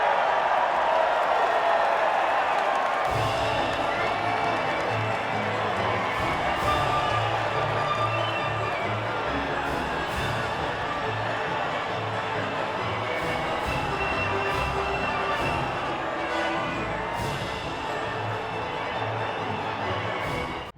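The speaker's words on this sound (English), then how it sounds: "the reaction from the crowd must be incredibly uplifting for them" A crowd cheers at the podium ceremony of the Austrian Grand Prix in the F1 2019 racing video game, a steady, dense roar of cheering and applause that holds at an even level throughout with a low hum running beneath.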